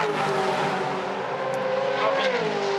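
A Supercars championship race car threads through track marbles at full speed, its engine a loud, steady roar that shifts pitch throughout, close and continuous, with no talk over it.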